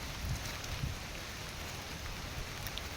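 Steady rain falls at a village pond as a continuous, even hiss, with a few soft low thumps and no voices.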